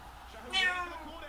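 A cat meows once, a short rising-falling cry standing out over a low murmur of background noise.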